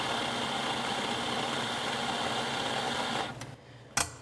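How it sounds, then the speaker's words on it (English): Coffee grinder grinding espresso beans for a cappuccino, a steady loud whirring motor drone that runs without a break, then cuts off near the end with a couple of short clicks and knocks. "we are ready to grind our coffee"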